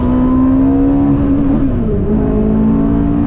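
Porsche GT3 RS racing car accelerating hard on a track, a loud, close engine roar with a steady climbing tone, heard alone without talk.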